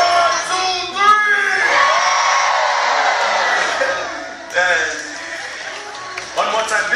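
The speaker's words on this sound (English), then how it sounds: "it's accompanied by a very loud scream" A large crowd of children erupts in a loud, sustained cheering scream that fills several seconds, dips, then surges again, with yelling voices close and overlapping.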